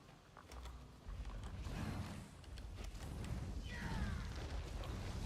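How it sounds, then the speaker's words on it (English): A repurposed rock grinder in the Guild Wars 2 video game crunches and creaks as rock chunks are dropped in, a low rumbling grind with mechanical clatter and a faint rising squeal, fairly quiet overall. "we take the rock chunks and drop them into the repurposed rock grinder"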